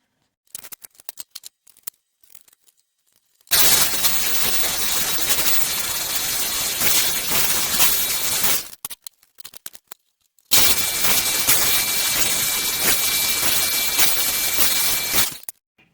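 A saw cutting cabinet drawer fronts to length makes two loud, sustained whining cuts of about five seconds each, separated by short bursts of clatter and quiet handling noise.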